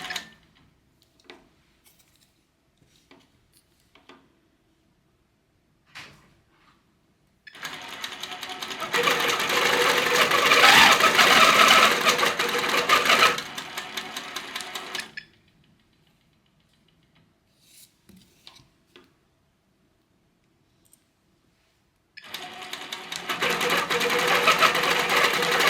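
Janome Versa 18 sewing machine quilting through a ruler-guided quilt sandwich, running in two steady, rapid stitching bursts separated by near-silence with faint handling sounds, the second burst starting near the end.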